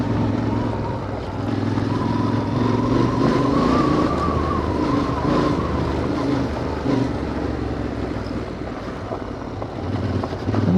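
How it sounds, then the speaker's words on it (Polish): Motorcycle ridden on rough mountain roads in the Skole Mountains near Skhidnytsia, Ukraine, a steady engine drone with heavy wind buffeting throughout, close and continuous. "Zabrałem na busa motocykl i sobie śmigam."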